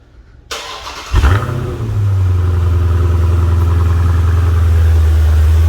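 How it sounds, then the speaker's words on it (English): A starter cranks briefly, then a gutted 2020 Dodge Challenger 1320 engine catches on a cold start with a loud burst and settles into a steady, rumbling idle close by. "let's start the car up"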